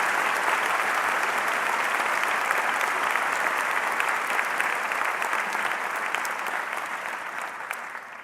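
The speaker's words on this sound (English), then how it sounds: "Let's give them all a round of applause" Sustained applause from an audience at a university honors convocation, dense and steady throughout, tapering slightly toward the end, with no voices over it.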